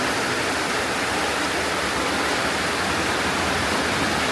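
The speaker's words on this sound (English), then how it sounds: "Johnson Creek." Johnson Creek in Oregon rushes loudly after heavy rain, a dense, steady roar of fast water with no let-up and no voices.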